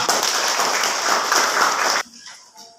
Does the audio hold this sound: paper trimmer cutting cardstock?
no